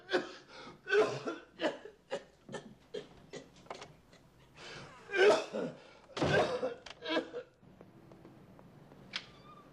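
A smoker coughs repeatedly in short, harsh bursts with throat clearing and breathing between, close and fairly quiet, mixed with talking.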